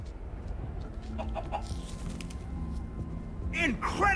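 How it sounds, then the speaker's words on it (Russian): A chicken clucks in the Minecraft: Story Mode video game, with short clucks amid low game ambience and brief chirpy sounds near the end. "А, чертова курица."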